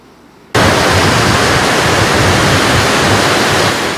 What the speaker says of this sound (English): The entrance to the Santa Barbara Harbor gets a direct hit, again with spectacular waves and a large ocean surge